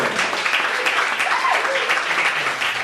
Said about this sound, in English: clap those hands and give it up